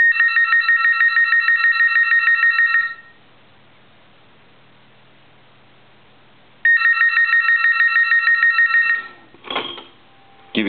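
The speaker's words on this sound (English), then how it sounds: "I want to go ahead and ring the telephone." A Galway Irish crystal telephone rings loudly with a rapid electromechanical bell trill, sounding two long bursts separated by a few seconds of quiet, then a clunk of the handset near the end.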